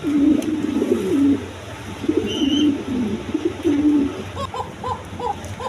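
A pair of big red pigeons coo in repeated low throaty phrases, close and fairly loud, with a few softer higher calls near the end against faint background hum.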